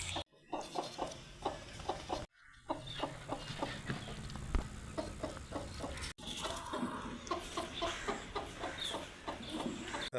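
Roosters and hens cluck in a rhythmic run of short calls in a village yard during continuous rain, fairly close, over steady background patter.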